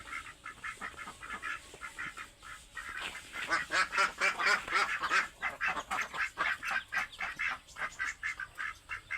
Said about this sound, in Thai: นี่เป็นเป็ดไข่ครับ